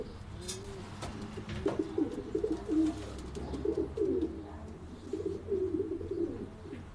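Racing pigeons coo in a loft, a steady stream of soft, throaty, rolling calls from several birds close by, rising and falling in repeated bursts over low background rumble.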